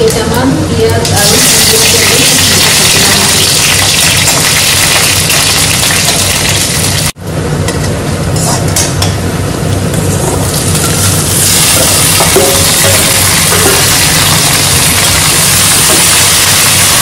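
Panch phoron spices and onions frying in a pan, a loud continuous sizzle with stirring scrapes, a brief break midway, and no clear talk.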